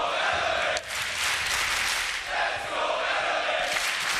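A dense arena crowd at a Rainbow Six Siege esports match in Berlin roars and chants steadily, a loud, continuous wall of cheering that swells and dips briefly, with no clear speech above it.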